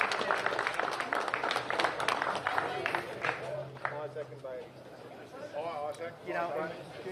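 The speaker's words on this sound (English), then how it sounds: "Big round of applause for Peter Lagagioni and Umberto." A crowd claps and cheers for the greyhound that won the 2023 Group 1 Dapto Megastar at a race meeting, the applause steady and mixed with chatter and a voice talking over it.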